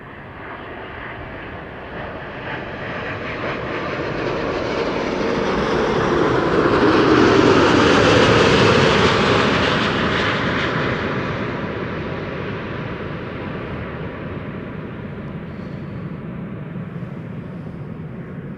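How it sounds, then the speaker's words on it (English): A Delta Airlines Airbus A330neo jet, about a year old, arrives at Amsterdam Schiphol, its steady roar swelling to a peak near the middle and slowly fading, with a broad rushing engine tone and no talk. "Delta Airlines Flight 90. A330neo arriving from Orlando, Florida."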